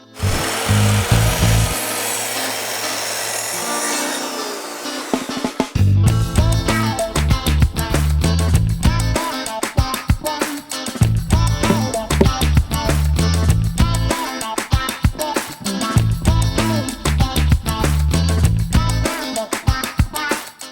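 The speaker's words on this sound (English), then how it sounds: "now we're trimming all the remaining beams to the correct size." A power saw trims wooden beams to size for a DIY wooden pavilion, with repeated loud buzzing cuts broken by short pauses and handling clatter, close up and without talk.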